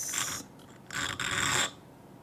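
Metal file rasping across the stone side of a handmade ring of silver, sapphire, wood and stone, in two close bursts of steady scraping separated by a short pause, with no talk.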